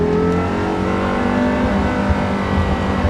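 A Porsche Carrera GT's V10 pulls hard in second gear, a loud, dense, steady engine roar that holds throughout at close range with no talking over it.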